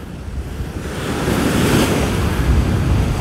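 Strong sea waves roll onto a beach after winter storms, a loud, close surf roar that swells and builds, mixed with wind buffeting the microphone.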